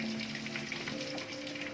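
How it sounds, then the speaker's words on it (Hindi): Fish frying in ghee in a kadhai over high flame, a brief continuous sizzle with a soft crackle, steady and close. "तो फ़िश को फ्राई करने के लिए हम कढ़ाई में घी लेंगे।"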